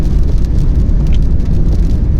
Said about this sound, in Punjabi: ਹਾਂ ਬਾਰਿਸ਼ ਪੈ ਰਹੀ